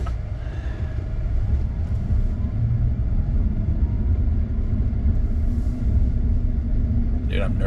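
A Tesla Cybertruck Founders Edition on the move, heard from inside the cabin as a steady low rumble of road and drivetrain noise, with people talking over it.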